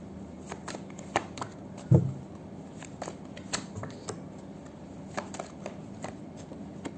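Tarot cards are shuffled by hand in quick, crisp riffling flicks and soft slaps, close and fairly quiet, with one sharper tap partway through.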